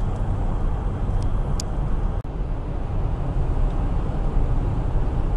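A car cruises along a smooth, good road on a hot summer day near the stanitsa of Severskaya, with a steady, even cabin rumble of tyres and engine throughout and no talking.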